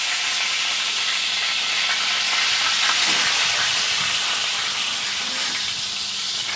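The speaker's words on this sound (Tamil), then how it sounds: "எத்தனை மீன் பொறிக்க?" Fish fry in oil in a pan, giving a loud, continuous broad hiss and sizzle that stays steady throughout, close by, with no talk over it.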